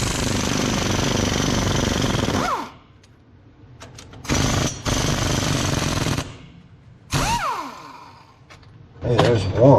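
A power tool spins the nuts off a 1966 Chevy one-ton dually truck in loud, rattling, hammering bursts: a long run, a second run and a short blip before it starts again, with brief voices in the gaps.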